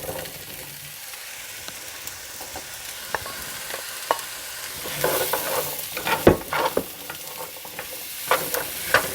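Vegetables and onions sautéing in butter in a pan, a soft continuous sizzle under scattered spoon clinks and scraping that grow busier and louder toward the end.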